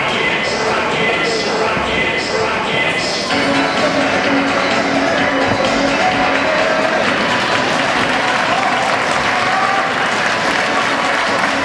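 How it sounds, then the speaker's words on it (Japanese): Loud, continuous arena applause greets wrestlers entering for a women's 63 kg wrestling final at a Japanese national championship, a dense crowd roar with clapping sustained throughout and faint background voices. "両選手の入場です。 大きな拍手でお迎えください。"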